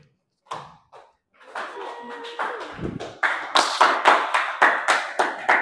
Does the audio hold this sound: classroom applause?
yes